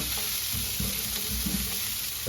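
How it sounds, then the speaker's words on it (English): Italian sausage, chicken and peppers sautéing in a large pan, with a close, steady sizzle broken by repeated scraping stirs, and no voices. "Stir that all in and continue sauteing."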